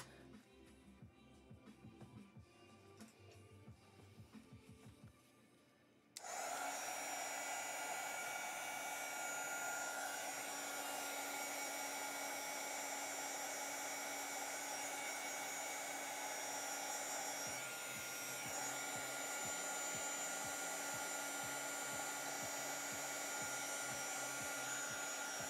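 Heat tool switches on after about six seconds and blows hot air steadily onto mixed media pieces, a loud continuous roaring whoosh that runs to the end without talk.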